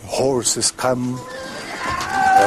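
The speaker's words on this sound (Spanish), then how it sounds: "con la muchedumbre completamente desprevenida, llegaron los caballos." Horses neigh and whinny as they charge into an unsuspecting crowd during the Spanish conquest at Cajamarca, shrill calls rising over a loud, busy scene with voices shouting in the mix.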